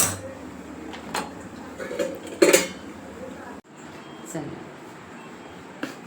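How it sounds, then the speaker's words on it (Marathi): Crisp coriander vadi pieces being cut on a plate, giving a few clinks and scrapes of a metal utensil against the dish, with one sharp clatter, close and fairly quiet, while someone speaks. "आता याचे आपण हे कट करून घेऊया"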